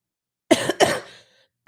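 Someone gives two quick, close coughs back to back, then a third cough starts just at the end, with silence in between.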